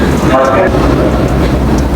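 A train on the Colombo to Batticaloa railway in Sri Lanka rumbles along in a loud, steady roar with a dense rattling texture, heard from close on board.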